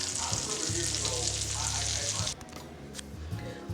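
Cut onions go into a hot pan alongside vegan scallops and start frying, giving a steady close sizzle that softens partway through, with light stirring noises.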